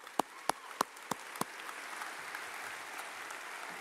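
A middle school promotion audience gives a round of applause: a few sharp, distinct claps ring out near the start, then settle into a soft, distant patter of clapping that continues quietly.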